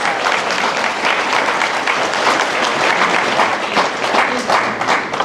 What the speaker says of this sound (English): Let's give Sebastian a round of applause